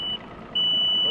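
A Mercury boat motor's warning alarm sounds as a steady high electronic beep, briefly at first, then cutting back in and holding loud and continuous.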